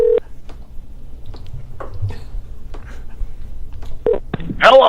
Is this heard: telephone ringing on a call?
yes